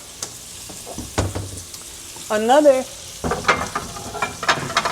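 Jambalaya cooking in a home kitchen pan, a sizzle with stirring scrapes and clatter close by, plus a brief tonal whine partway through.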